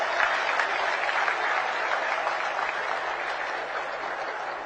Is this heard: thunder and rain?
no